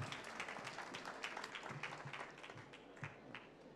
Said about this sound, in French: Monsieur Michel Dijoux, sous vos applaudissements.